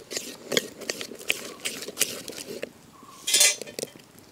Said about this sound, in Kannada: ಈ ಹಿಟ್ಟಿಗೆ ಇನ್ನೀಗ ರುಚಿಗೆ ಬೇಕಾದಷ್ಟು ಉಪ್ಪನ್ನು ಹಾಕಿಕೊಂಡು ಸರಿಯಾಗಿ ಬೆರೆಸಿಕೊಳ್ತೇನೆ